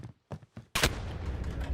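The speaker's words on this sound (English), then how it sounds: "Shotgun." Shotgun fire in the Call of Duty game, a few short sharp bursts followed by a loud blast and a rumbling, noisy tail of continued gunfire and action.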